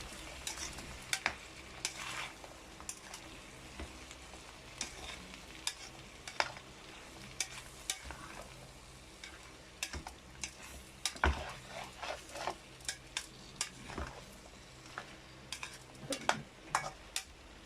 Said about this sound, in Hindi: मैंने इसमें शामिल किए हैं कॉर्न। अब मैं इन सब को अच्छे से फ्राई कर लूँगी।